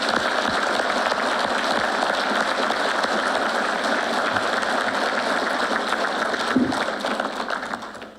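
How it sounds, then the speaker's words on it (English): Sustained audience applause at a police academy BLET graduation ceremony, a dense, steady wash of many hands clapping that fills the room and fades out toward the end. "Please join me in giving these individuals a well-deserved round of applause."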